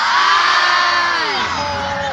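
A large crowd at the Imus Grandstand concert shouts together in unison, a loud sustained roar of many voices that swells and then trails into scattered yelling.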